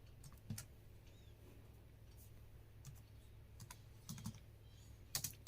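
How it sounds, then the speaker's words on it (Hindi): Keys on a computer keyboard are tapped in short, quiet bursts of clicks with pauses between, fairly close over a low steady background hum. "टाइप कर देते हैं रोल नंबर"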